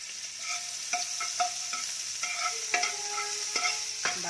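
Butter melts in a hot pan, giving a faint, steady sizzle beneath repeated sharp metallic clinks and scrapes from a utensil working across the pan.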